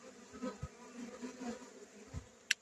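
Honey bees buzz around an open hive during an inspection in extreme heat, with faint, wavering drones as individual bees pass close and drift away, plus a few soft taps and a sharp click near the end.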